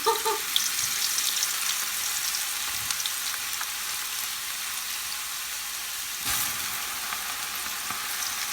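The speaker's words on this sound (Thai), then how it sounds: "นี่ค่ะยายก็จะทอดทีเดียวไปเลยนะคะ" Acacia leaves (cha-om) deep-frying in hot oil as one batch, a steady close crackling sizzle that holds throughout with a brief louder burst of bubbling near the end.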